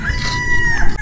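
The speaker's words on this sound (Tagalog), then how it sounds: "May manok na naman." A rooster crows once, close and clear, its drawn-out call filling the whole moment with a slight rise and fall before it cuts off.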